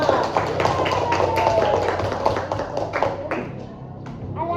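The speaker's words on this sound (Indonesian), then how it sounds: "Iya betul, tepuk tangan untuk temannya." Classroom children clapping their hands together, a burst of quick, uneven claps from several kids close by, with voices talking over it and the clapping thinning out toward the end.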